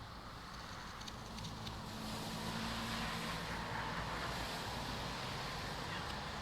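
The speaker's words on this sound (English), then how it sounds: "I can hear the cars a lot better just from my window with the wet roads" Steady hiss of cars passing on wet roads outside a window on a rainy night, a soft, distant wash that swells slightly midway with no talking.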